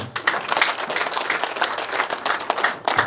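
Wedding guests break into sustained applause, a dense wash of many hands clapping together that stays steady and fairly close for about three seconds.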